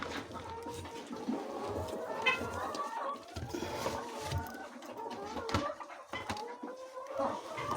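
Chickens on a poultry farm cluck and squawk at a moderate distance, with intermittent bird calls and faint rustling in a fairly quiet barn setting.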